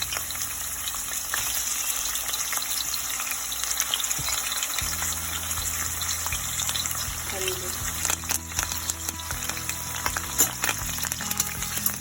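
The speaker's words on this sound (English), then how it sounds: "Add in the onion." Onion frying in hot oil in a pan for sambal for nasi lemak, giving a loud, continuous close-up sizzle with crackling bursts throughout.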